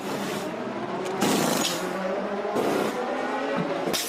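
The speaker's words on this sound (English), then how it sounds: "The Toyotas head out to the pit lane and down towards Eau Rouge." Toyota endurance race cars roll out of the pit lane on a soaked track, their engines rising and falling in two clear passes over a steady wet hiss of tyres on water, moderately close.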